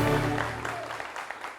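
Brief applause from an audience on a French-language radio show, a light patter of claps trailing off under a continuing voice.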